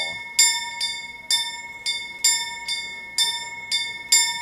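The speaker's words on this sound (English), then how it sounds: "Using the bell." A bell being rung in the video game Kingdom Come: Deliverance, From the Ashes DLC, about nine clear metallic strikes in an uneven rhythm, each ringing with a bright sustained tone that overlaps the next, loud and close.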